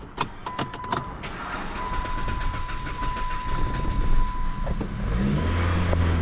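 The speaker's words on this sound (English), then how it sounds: "It's actually running now" A 2007 Chrysler Sebring engine runs steadily with a sustained mechanical hum and a faint high tone, with a few sharp clicks early on and a slight swell in level midway.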